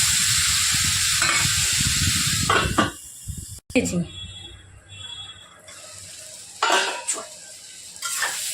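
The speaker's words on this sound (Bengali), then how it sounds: "এবার নেড়ে করে ঢাকনাটা দিয়ে দিতে হবে" Squash sizzling as it is stirred and fried in a pan, with loud frying hiss and spatula scrapes, a short break where the pan goes quiet, then the hiss and stirring resume.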